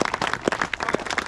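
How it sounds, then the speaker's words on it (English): A small group applauds, scattered uneven claps from a handful of people close by, loose and brief. "give you guys a round of applause"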